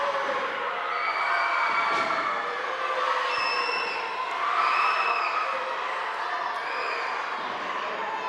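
A wrestling crowd cheers for the referee in a loud, continuous roar, with scattered whoops and shouts swelling above the steady noise.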